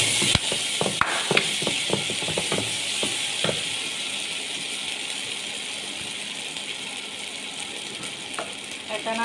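Ginger-garlic paste going into onions fried until red in a pan, a steady hissing sizzle throughout, with a burst of sharp spoon clicks and scrapes in the first few seconds before the frying settles to a continuous hiss.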